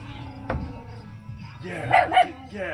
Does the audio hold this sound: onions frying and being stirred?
no